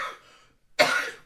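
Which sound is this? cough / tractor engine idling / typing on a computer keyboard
cough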